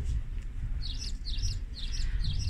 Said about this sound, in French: Nous avons le chant des oiseaux